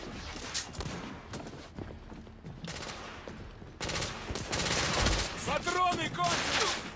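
Gunfire from a Victorian-era shooter, The Order: 1886, with dense bursts of shots and crashing impacts building louder toward the end, plus brief metallic ringing tones, no speech over it.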